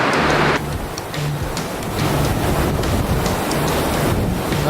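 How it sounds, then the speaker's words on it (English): Loud, continuous roar of whitewater on a river rapid swollen by heavy rain, broadband rushing close to the microphone with some wind buffeting. "This is one of the crux rapids of our trip, and one of the more exciting rapids for the day."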